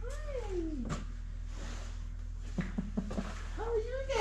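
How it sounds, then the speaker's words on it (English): Kittens meow on a farm, their high, rising cries coming in a few short bursts near the start and end, with a steady low hum underneath and some quiet talk. "Oh, the little kitties!"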